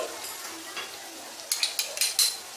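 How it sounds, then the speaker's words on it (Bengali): Chopped green chilli being stirred into onion and capsicum frying in a pan for restaurant-style chilli chicken, with a soft sizzle under a quick run of spatula clinks and scrapes toward the end. "এখন এর মধ্যে আমি মিশিয়ে দিচ্ছি এক কাঁচা লঙ্কা কুচি"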